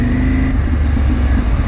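A large motorcycle with a semi-loud exhaust rides on Selayar Island, South Sulawesi, its steady low engine drone loud and close throughout.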